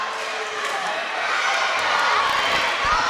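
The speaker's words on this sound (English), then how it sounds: "Of little kids running around, cheering for their school." Little kids cheer and shout in a school gym during a championship volleyball game, a bright, busy crowd roar that holds steady and swells slightly, with scattered thumps of movement on the court.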